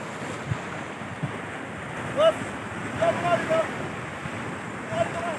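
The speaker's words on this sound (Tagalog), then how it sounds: "Lakas lang ng alon." Strong Pacific Ocean waves breaking along the Aurora coast, a steady broadband wash of surf with wind rumble against the microphone, with faint voices and a few short chirps poking through now and then.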